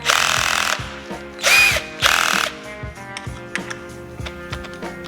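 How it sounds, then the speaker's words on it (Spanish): A power drill whirs in a few short bursts, then slows to a low, ticking spin with light clicks, close by, during timing belt work on a Ford 1.8 Duratorq TDCi diesel engine. "Y ahora vamos a ir con el taladro muy despacito"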